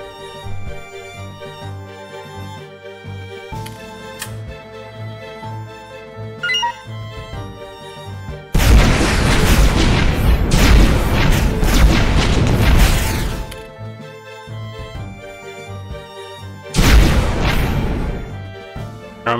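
Loud booming bursts of weapon fire from enemy ships in the space strategy game AI War Fleet Command, two dense heavy barrages breaking over a steady musical soundtrack.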